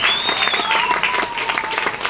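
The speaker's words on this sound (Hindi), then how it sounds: "एक बार जोरदार तालियां आदरणीय बड़े भैया जी के लिए" Loud, dense applause from an audience at a celebration event in Dehradun, honoring a respected elder; steady clapping continues throughout with a faint whistle-like tone over it.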